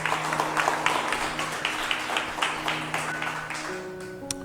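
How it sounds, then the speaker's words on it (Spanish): Church congregation clapping steadily in rhythm, a dense patter of hands with sustained keyboard or organ tones beneath and a few voices, the tones shifting pitch near the end. "Denle palmas al Señor"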